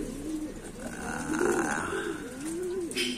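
Racing pigeons at a loft in Morong, Rizal, with a close, soft cooing call rising and falling several times over steady background noise.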